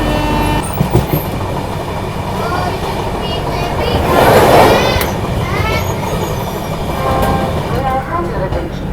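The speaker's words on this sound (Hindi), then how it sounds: "कर्व पर भाई क्या क्रॉसिंग है।" The Mahakaushal Express rumbles over points on a curve, loud and steady, with rhythmic clicks of wheels, a brief squeal in the middle, and someone talking over it.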